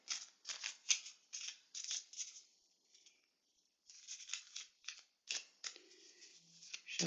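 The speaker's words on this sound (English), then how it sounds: "First, I'm going to shuffle the spirit animal deck." Cards are shuffled in quick bursts of crisp riffling and flicking, with a short pause midway, close and fairly quiet.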